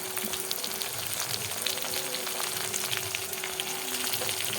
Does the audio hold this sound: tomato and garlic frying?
yes